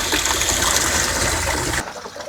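Water gushes steadily into a sprayer tank, a loud, close, continuous rush that cuts off abruptly near the end.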